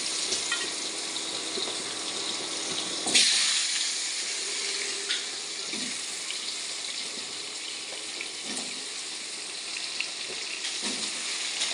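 Potatoes frying in hot oil seasoned with turmeric and salt give a continuous soft sizzle, with a brief louder burst early on and occasional light stirring clinks, and no one speaking.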